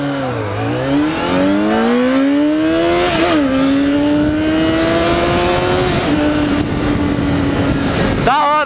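A car engine with its original stock sound revs up and down in rising and falling sweeps, loud and close, with a faint whistle like a small turbo toward the end.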